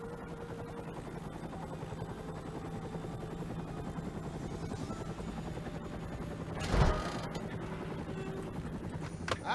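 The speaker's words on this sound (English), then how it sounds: "I'm sending a chopper." A helicopter approaches in the action video game Stranglehold, its steady rotor chop and engine drone running continuously and swelling briefly near the end, with scattered sharp clatters and no voices.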